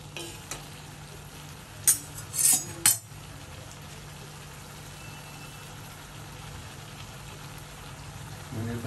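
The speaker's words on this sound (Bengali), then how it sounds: "ধনিয়া পাতা দিয়ে একটু নাড়াচাড়া দিয়ে দেব" Chicken and cabbage with coriander leaves are stirred in a pan, a brief burst of scraping and clinking utensil strokes over a steady low sizzle.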